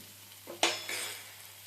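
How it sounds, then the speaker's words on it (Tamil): Ginger garlic paste dropped into a frying tomato and green chili puree: a brief close splash and a soft scrape, then a bright sizzle that flares and holds for about a second, with no talk. "அதுக்கு உடனே இஞ்சி பூண்டு பேஸ்ட்டு போட்டுடலாம். நல்லா வதங்கட்டும்."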